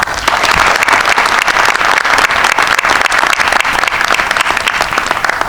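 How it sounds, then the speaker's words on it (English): A conference audience applauds panelists at an economic conference, loud and dense sustained clapping filling the whole stretch without pause. "Please, a round of applause for them."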